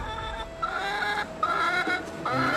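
Chickens at a Survivor: Edge of Extinction camp cluck in several short, overlapping bursts, close and fairly loud, with no speech over them.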